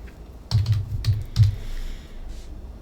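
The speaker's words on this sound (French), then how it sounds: "Donc ici, il va écrire son nom, Jean." Several quick keystrokes on a computer keyboard as a student's name is entered into an account form, a short burst of close, soft clicks followed by quiet room tone.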